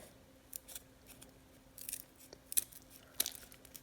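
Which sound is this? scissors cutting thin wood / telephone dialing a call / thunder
scissors cutting thin wood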